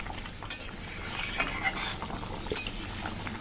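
A spoon scrapes and clinks through tilapia curry seasoned with salt and turmeric in a pan, several faint metallic taps over a low steady cooking hiss.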